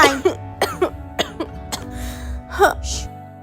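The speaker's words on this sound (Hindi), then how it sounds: "इतनी खांसी क्यों आ रही है?" Several sharp, close coughs in a quick irregular series, with throat clearing between them and no talking.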